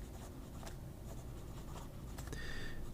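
A Parker 95 fountain pen with a very thin, smooth nib scratches lightly across paper in a steady, quiet stream of soft strokes, close by and with no voice.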